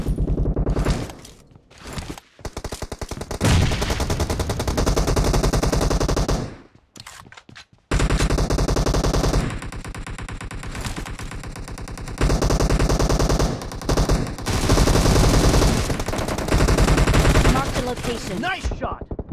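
Rapid automatic gunfire in PUBG Mobile team deathmatch, loud sustained bursts of shots with brief gaps between them and a few sharp pauses, the firing dominating throughout.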